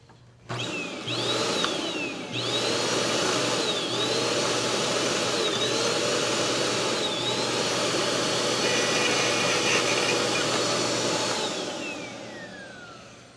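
Bissell CleanView swivel upright vacuum motor runs loud and steady, switching on near the start and holding a constant whine with rising and falling pitch sweeps before winding down at the end.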